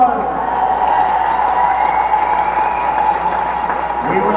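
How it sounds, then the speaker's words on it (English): An ice hockey crowd gives a sustained round of applause and cheering for graduating seniors, steady clapping filling the arena throughout with a faint background voice mixed in. "Let's give them one more big round of applause."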